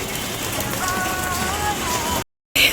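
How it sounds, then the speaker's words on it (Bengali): Steady rain pours down outdoors in a dense, even patter close by, with a faint tonal whine briefly audible in the background before a short dropout. "বৃষ্টিটা হয়েই যাচ্ছে"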